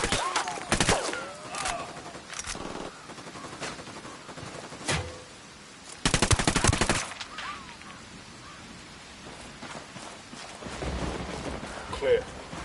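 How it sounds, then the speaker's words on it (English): Bursts of video game gunfire, a short volley near the start, sharper single shots later and a loud sustained fusillade around the middle, separated by quieter stretches with faint game ambience. "Opening fire on these fuckers."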